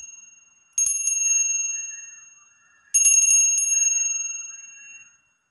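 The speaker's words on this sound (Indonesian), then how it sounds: "Kita akan memulai dulu dengan tanda lonceng berbunyi" A bright metal bell rings twice, each clear ring decaying for a couple of seconds before the next, close and alone against silence.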